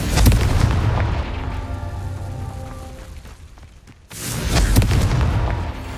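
Confringo explosion spells cast in the Hogwarts Legacy video game during a broom trial: loud booming blasts rumble for about four seconds, drop briefly, then a second heavy explosion bursts in.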